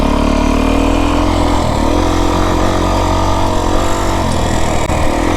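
A Beta 350 dirt bike engine drones loudly and steadily while riding a desert trail, a close, continuous mid-pitched motor hum with slight throttle swells and no speech.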